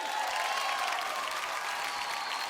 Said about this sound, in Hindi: जोरदार तालियां ताहिर के लिए